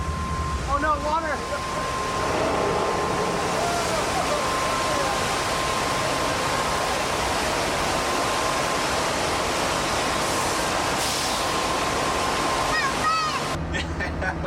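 A rushing water effect on the Universal Studios Hollywood studio tour, a loud, broad roar of water that runs continuously for the whole span, with people's excited voices and shouts over it.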